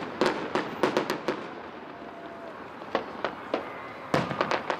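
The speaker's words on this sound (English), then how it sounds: "I think that's the favorite part of fireworks for me, was the sound delays." Fireworks at a July 4th show in Sparks, Nevada: a string of sharp, crackling bangs arrives in irregular clusters, some close and loud, others fainter, over a quiet outdoor hush.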